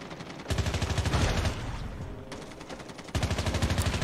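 Rapid automatic gunfire in the mobile shooter Call of Duty Mobile, loud and close, coming in dense bursts that pause briefly mid-clip and then resume with a steady rattling rhythm.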